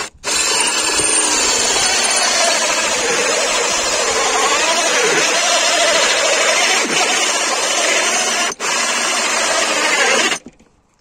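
Hole saw on a power drill cutting through wood, running in reverse rotation, a steady, loud, grinding whir lasting about ten seconds with one brief dip before stopping abruptly.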